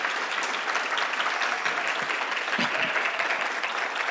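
An audience applauds a president at her probably last public event, a steady dense wash of clapping filling the room without pause.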